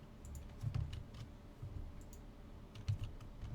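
Keys on a computer keyboard clack in uneven bursts of typing, close and moderately soft, with small pauses between clusters of strokes and no talk.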